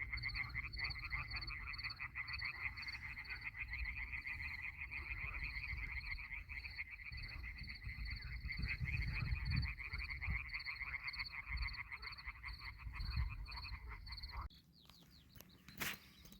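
A dense chorus of frogs croaking continuously before rain, loud and close, with a steady rhythmic pulse that cuts off near the end leaving quieter background.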